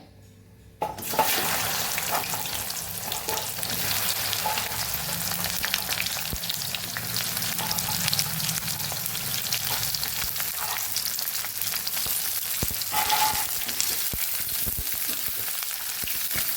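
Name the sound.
okra frying in hot oil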